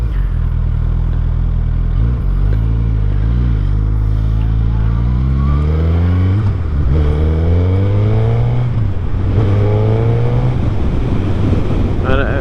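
A 2023 Suzuki Hayabusa motorcycle pulls away and accelerates through several gears, each rising engine whine cut by a brief dip at the shift, the note loud and close over steady wind rush.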